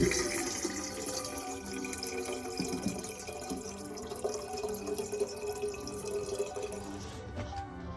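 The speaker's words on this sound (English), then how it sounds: "Now, time to put some water on to boil to make me some" Water running steadily into a kettle for tea inside a winter camper van with a woodstove, a close continuous splash and trickle that cuts off near the end.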